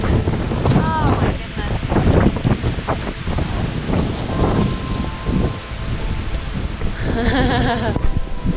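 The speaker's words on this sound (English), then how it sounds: "It's getting a little bit windy" Gusty wind buffets the microphone at a trail viewing platform near the James River Face Wilderness, a steady rumbling roar throughout, with a person speaking intermittently over it.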